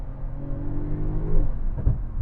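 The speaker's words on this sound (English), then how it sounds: "you love these downshifts" A Porsche 911 Turbo's engine rumbles and drops through a downshift, pitch sliding down and then a brief blip near the end, fairly close and with no talking.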